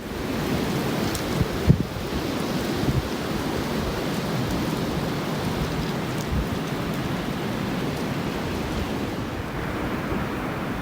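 Winter wind blows outdoors in Maine as a steady, dense roar that holds at an even loudness throughout, with one brief knock near the start and no voices.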